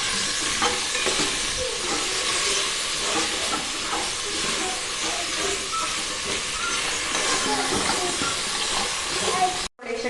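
Coriander powder stirred into food frying with ginger-garlic paste in a pan, a steady loud sizzle and hiss with scraping stirs throughout, cutting off briefly near the end.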